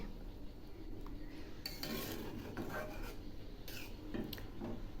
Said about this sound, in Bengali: এবার নেড়ে দিচ্ছি।